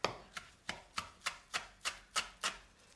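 Kitchen knife chopping shallot and green beans on a cutting board, nine evenly spaced crisp knocks at a steady rhythm, close and alone with no talk.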